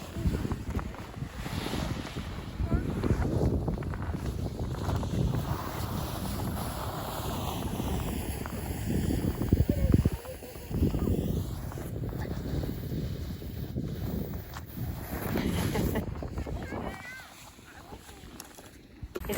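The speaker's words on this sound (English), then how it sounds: "It is a little bit windy today." Wind gusts across a frozen lake on a remote Canadian island, buffeting the microphone in uneven rumbling blasts that ease off briefly and fade lower near the end.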